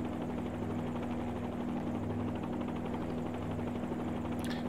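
A helicopter in a slow clearing turn, heard from inside the cabin as a steady loud rotor and engine drone with a constant low hum, no talk.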